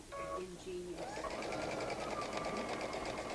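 A sewing machine stitches a butted, folded cord splice, starting after a brief pause and then running as a steady, rapid whirring hum. A voice talks briefly at the start.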